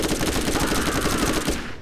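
Rapid automatic gunfire rattles in continuous bursts in the co-op shooter video game Borderlands, loud and dense from start to finish.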